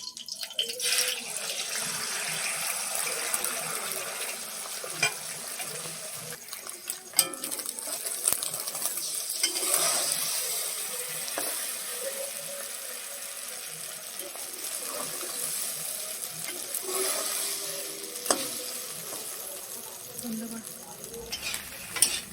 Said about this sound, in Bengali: ডিম ভাজবো, এটা পাঁপড় ভাজার তেল ছিল তাই দিলাম।